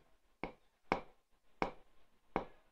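Four crisp finger snaps ring out close and alone in a quiet room, spaced unevenly about half a second to three quarters of a second apart, each a sharp dry crack.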